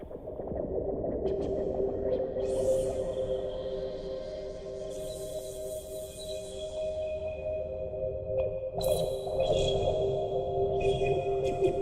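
A sustained Prophet 12 synthesizer tone with steady low harmonics and a wobbling, LFO-pulsed high layer that comes and goes, continuous and fairly quiet.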